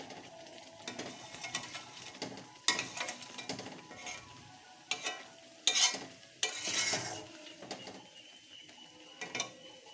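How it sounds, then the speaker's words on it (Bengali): Pickle mixture being stirred in a pan to keep it from sticking, with scraping and clattering strokes that come in irregular bursts over a low sizzle, close and moderately loud, with no talking. "মাঝে মাঝে নেড়ে দিতে হবে, না হলে আবার মানে কড়া লেগে যাবে"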